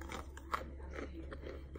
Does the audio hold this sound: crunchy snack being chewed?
yes